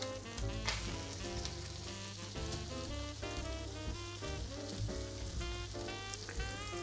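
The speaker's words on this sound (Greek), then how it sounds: "Και περιμένουμε και αυτά να τηγανιστούν." A steady sizzle of chicken breast frying in hot oil, continuous throughout, with music playing over it.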